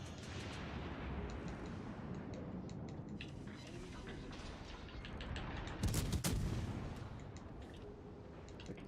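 Warship gunfire in World of Warships Legends rolls through a dense, noisy naval battle soundscape, with a loud cluster of booming shots just past the middle.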